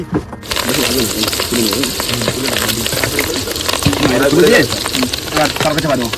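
Freshly caught tengra fish sizzle loudly in hot oil with occasional stirring scrapes, while people talk over the frying.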